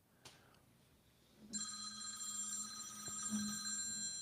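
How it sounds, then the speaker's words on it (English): A phone rings from about 1.5 seconds on, a steady electronic ringtone holding a bright, sustained tone over faint room noise. "Yo, phone ringing."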